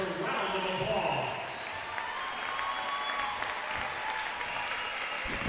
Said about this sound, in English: Please give these seniors and their parents a round of applause